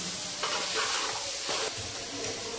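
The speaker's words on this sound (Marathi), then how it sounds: "त्याला व्यवस्थित असं परतून घ्यायचं." Spiced mixture sautéed in ghee in a pan, a loud, close, steady sizzle and hiss with brief stirring scrapes, no voices.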